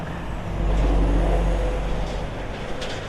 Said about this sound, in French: Alors le pont s'est mis à trembler quand le camion est passé.